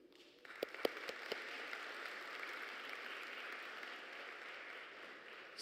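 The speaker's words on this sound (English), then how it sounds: "join me, please, with a round of applause, thanking NIST for their contribution" An audience at a biometrics symposium breaks into applause after a few sharp opening claps, settling into an even, moderately distant round of clapping that holds to the end.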